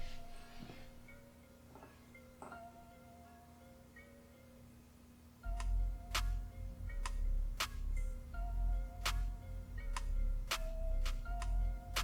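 An Omega watch's click springs ratchet during winding: a quiet run of small ticks, then from midway sharper, more frequent clicks over a low rumble of handling noise, close up.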